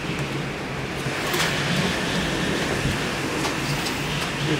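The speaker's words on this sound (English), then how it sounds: "So I fill this one up with water." Tap water runs steadily into a container being filled to soak dirty shoes. It makes a continuous, fairly loud hiss and rush that lasts the whole time, with no talking.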